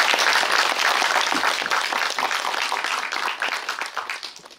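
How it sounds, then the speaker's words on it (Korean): An audience at a film festival screening Q&A in Jeonju applauds steadily, with dense clapping that stays loud and slowly fades toward the end. "박수 한번 쳐주시면 감사할 것 같아요"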